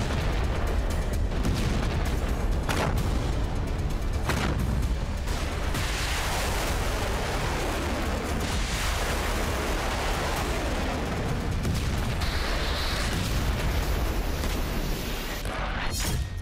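Repeated booming explosions and heavy blasts from the Israel–Hezbollah fighting in Lebanon, some sharp and close, over a constant rumbling roar.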